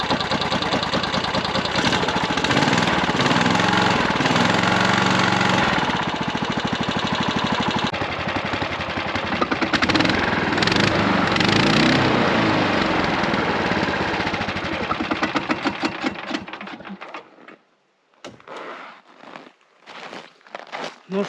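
A snowmobile engine on a field repair in -30°C cold starts and runs loud and close, a steady rough idle with revving surges, before cutting out near the end, leaving quieter intermittent sounds.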